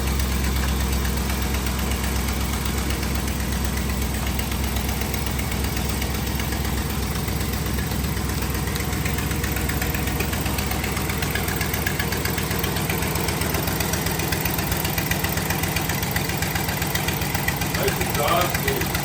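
A Chevrolet S10 truck engine idles steadily after a cold start following weeks unused, a loud, continuous low rumble with a knocking throb that runs the whole time without a break.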